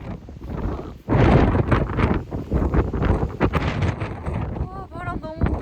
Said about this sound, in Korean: 와, 바람 너무 많이 분다.